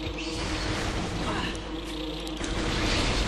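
Insect swarm buzzing from hives in Metroid Prime, a dense, continuous droning hum filling the scene, fairly loud and steady.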